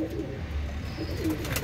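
Pigeons kept for sale coo softly, with low, rolling throaty calls repeating over a murmuring background.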